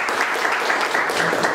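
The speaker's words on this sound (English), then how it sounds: "Clapping for Mahad" Classroom applause for a student after a linear algebra presentation, a short burst of steady group clapping heard close and fairly loud, with no talk over it.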